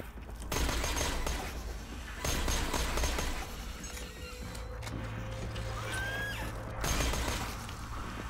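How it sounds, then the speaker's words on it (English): Bursts of automatic gunfire from Mordecai in the video game Borderlands 2, several rapid volleys at moderate loudness with mechanical clatter and effects between them. "I don't even know what Mordecai's freaking shooting at, but he's doing a good job"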